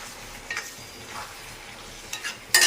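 Boiled, cut potatoes are added to a pan for a potato curry and stirred, making a soft sizzle under a few short scraping and clattering stirs, with a louder scrape at the end.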